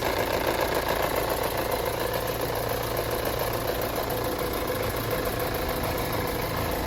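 An Opel Astra J with a 1.6 XR petrol engine idles roughly and misfires, giving a steady, close, loud mechanical drone with a constant hum and no pauses, alone with no talking.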